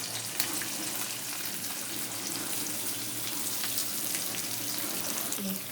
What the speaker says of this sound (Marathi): चिरलेला कांदा टाकून घेऊ.